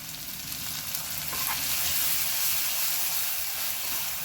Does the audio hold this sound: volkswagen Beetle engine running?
no